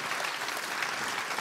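An audience at a Swedish brain-science lecture day claps warmly for a psychiatrist walking on stage, giving a short burst of dense, even applause that holds steady throughout.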